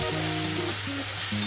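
Onion paste fries in a pan for a raw jackfruit curry, giving a continuous close sizzle with a low steady hum underneath and no talk.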